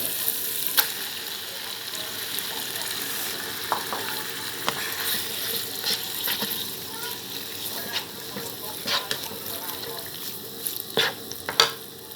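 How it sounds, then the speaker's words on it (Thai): Pork belly with red curry paste stir-fries in an oiled pan, a constant bed of sizzle broken by scattered sharp clicks and scrapes of the spatula, louder near the end, with no speech. "ผัดพริกแกงให้หอมเลยพอพริกแกงหอมแล้วเราก็ใส่ หมูสามชั้นพร้อมเครื่องปรุงลงไปเลย"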